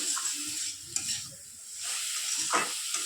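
Mustard greens fry in a pan, a soft close sizzle and hiss broken by a few stirring scrapes and light knocks, fading slightly in the middle before rising again; no speech.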